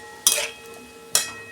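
Masala spice paste with salt and a little water being stirred in a pan for a prawn and cauliflower curry, two short scraping strokes over a low, faint sizzle.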